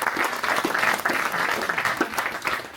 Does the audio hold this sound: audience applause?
yes